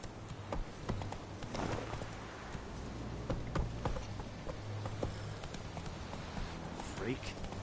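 In The Witcher 3, the horse Roach gallops with a steady clip-clop of hooves. A voice is heard over the hoofbeats.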